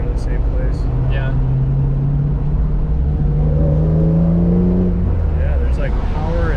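A BMW E36 with a swapped S54 engine pulls hard under acceleration, its steady engine drone rising in pitch through the gear from inside the cabin, with people talking over it.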